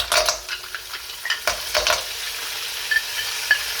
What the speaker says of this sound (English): so we're gonna start with the clams. I'm gonna put nicely the clams in.